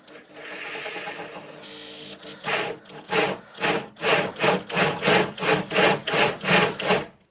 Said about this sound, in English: get your 24mm Speedbore and drill a hole through there to meet up with the hole you've just drilled